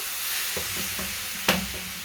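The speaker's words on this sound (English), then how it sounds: "On my stove, I've got my frying pan. I'm going to be putting in my apple mixture" Apple mixture sizzling and frying in a frying pan on a stove, a constant crackling hiss with a few soft stirring knocks and one sharper clatter.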